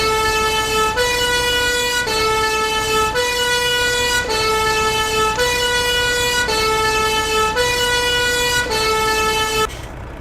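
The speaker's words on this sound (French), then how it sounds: "Et bien sûr la sirène." Fire truck siren from a Farming Simulator 17 mod: a loud electronic two-tone wail alternating high and low in a regular rhythm for about ten seconds, cutting off at the end.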